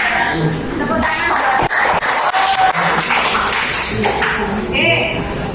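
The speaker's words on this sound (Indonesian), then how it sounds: "Tepuk tangan." Students in a classroom applaud a group's answer, with scattered claps, taps and shuffling mixed with chatter and voices, moderately loud and uneven throughout.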